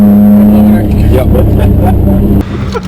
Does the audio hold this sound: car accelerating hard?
yes